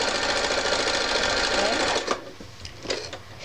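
A needle felting machine punches rapidly into wool pieces, a loud steady mechanical buzz that runs for about two seconds, then stops and leaves only a few faint clicks and rustles.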